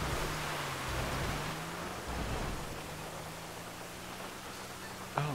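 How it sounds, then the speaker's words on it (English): Steady rain in GTA Online, a continuous even hiss of falling water that holds for several seconds without breaks, with a faint low tone running underneath. "It doesn't help if it's raining."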